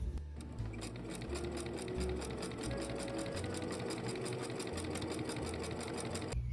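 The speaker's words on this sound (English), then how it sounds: "I'm gonna sew the ends of this together" A sewing machine stitches together the ends of patchwork dress fabric, running in a fast, even mechanical whir with rapid needle ticks, close and steady, pausing briefly near the start.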